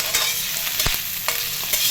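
Onions fry in a pan with a close, steady sizzle, broken briefly by a few scrapes of a spatula, and no one speaks.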